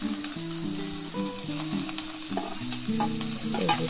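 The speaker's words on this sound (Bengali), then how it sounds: "ভাত করলার বীজগুলো দিয়ে দেবো এর মধ্যে, দিয়ে ভালো করে নাড়িয়ে নেব।" Bitter gourd seeds being stirred and fried in a pan, a steady close sizzle with scraping stir strokes running throughout, while a soft tonal background sound plays underneath.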